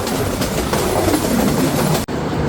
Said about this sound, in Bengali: ট্রেনটি ইতিমধ্যে প্রবেশ করলো তার আরও একটি যাত্রাবিরতি স্টেশন জয়পুরহাটের এক নম্বর প্ল্যাটফর্মে